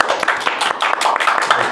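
An audience at a stage show claps briefly, a dense, close burst of hand claps lasting under two seconds.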